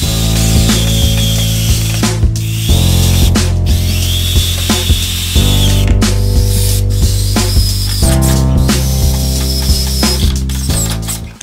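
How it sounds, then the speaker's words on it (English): A power drill drives 2.5-inch weather-resistant pocket hole screws into a wooden garden bench. It makes a loud, close, whining whir in repeated bursts that rise and fall with each screw, with no talking. "screw my pocket hole screws in"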